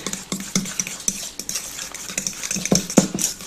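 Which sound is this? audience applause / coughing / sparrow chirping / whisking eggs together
whisking eggs together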